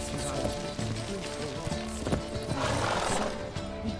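Geralt's horse Roach galloping in The Witcher 3: Wild Hunt, a rapid thudding of hooves close by, with a neigh and game sounds mixed in over a short stretch.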